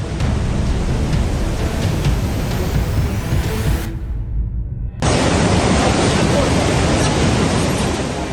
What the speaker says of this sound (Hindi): पहाड़ से गिर रहे झरने का पानी देखिए कैसे सड़कों पर उफनते सैलाब की तरह बहते हुए कहर बरपाने लगा